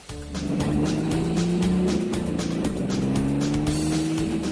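A vintage racing car engine runs loud and steady at a museum, a throaty motor holding a sustained drone with shifting pitch, close by and continuous.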